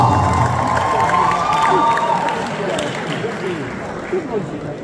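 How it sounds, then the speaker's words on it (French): A debate audience breaks into loud cheering and applause, a dense crowd roar with shouts and whoops that slowly fades over a few seconds, with voices mixed in. "Est-ce qu'on peut applaudir pour Chaouba, ses frères?"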